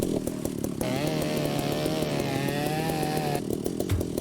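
Saw cutting through chrome-heavy pipes in the Ship Graveyard Simulator video game, a loud, steady buzzing whine with a tonal drone through the middle, starting and stopping abruptly.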